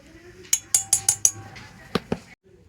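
A spoon clinks sharply against a bowl five times in quick succession, then twice more, while milk powder is mixed into a sweet mixture; close and bright, with a faint background hum.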